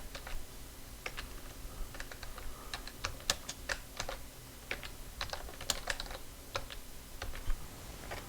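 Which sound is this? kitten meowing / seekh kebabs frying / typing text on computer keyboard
typing text on computer keyboard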